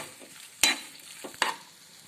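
A spoon stirs mashed boiled potatoes with onion and masala stuffing in a pan, giving a couple of sharp scraping clinks over a faint background hiss, with no voices.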